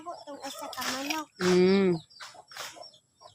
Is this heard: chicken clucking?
yes